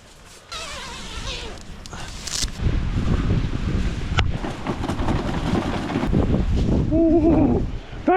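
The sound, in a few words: strong blizzard wind outside a tent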